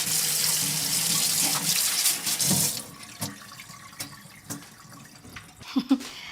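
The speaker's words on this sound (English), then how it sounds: "Wash your sink with hot water." A tap runs hot water into a sink with a steady rush for a few seconds, then stops, leaving scattered drips, clinks and light handling sounds.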